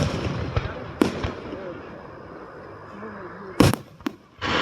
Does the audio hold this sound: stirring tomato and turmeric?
no